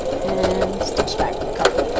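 Sewing machine forward stitching a saddle pouch at a quarter-inch seam allowance, a steady mechanical whir running close and continuous for about two seconds, with a person speaking over it.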